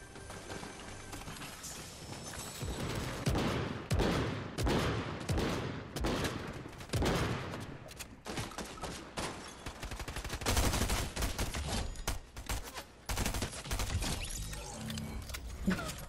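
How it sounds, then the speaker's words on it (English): Repeated shotgun blasts in a video game, a dense run of loud booming shots with clattering impacts and mechanical clicks filling the whole stretch. "Shotgun."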